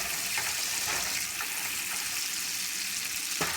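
Food sautéing in a couple teaspoons of oil in a pan for German noodles with vegetables, a steady broadband sizzle running close and even throughout, with a faint clink near the end.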